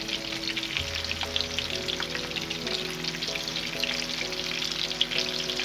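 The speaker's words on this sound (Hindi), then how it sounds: "लो टू मीडियम फ्लेम पे रख के इनको आप लाइट ब्राउन होने तक फ्राई कर लें" Chicken gola kababs fry in oil in a pan over a low to medium flame with a loud, continuous sizzle and crackle, while steady tones hum faintly underneath.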